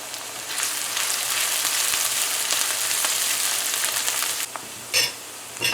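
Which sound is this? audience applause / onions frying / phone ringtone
onions frying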